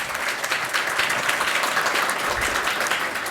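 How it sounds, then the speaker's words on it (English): Audience applause for a speaker at a fireside chat, dense and sustained clapping from a crowd throughout, fairly loud and even. "Give her another round of applause"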